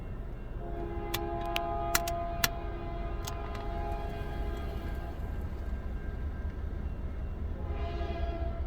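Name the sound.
CN 3316 freight train passing, train horn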